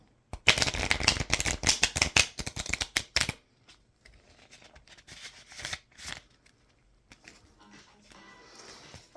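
A deck of tarot cards is shuffled in a quick, dense riffle of crisp flutters, then a few scattered taps and slides as the cards settle.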